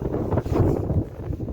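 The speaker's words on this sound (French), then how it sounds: "Le vent commence à bien se lever, il commence à faire bien froid là" Wind gusting across a moored Sun Odyssey 35 sailboat in cold weather, a steady low rushing buffet against the microphone that swells and eases over a brief stretch, with no voices.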